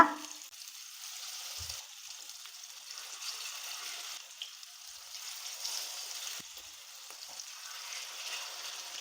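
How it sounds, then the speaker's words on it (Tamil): Seer fish (vanjaram) slices frying in hot oil give a steady, soft sizzle throughout, moderately close, with small crackles and pops scattered on top and no talking. "மீன் மெதுவாக இந்த மாதிரி எண்ணெயில் சேர்த்துக்கோங்க நீங்கள் எண்ணெய் சூடாகிற வரைக்கும் தான் ஐபியில் இருக்கணும்"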